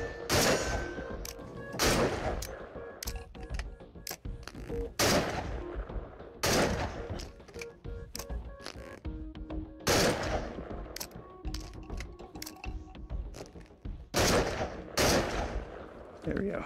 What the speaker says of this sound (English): It is a shotgun that fires 2 shots.